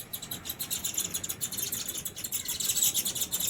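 Sparrows chirp in quick, repeated bursts, a busy, fairly faint, continuous twittering with no voices over it.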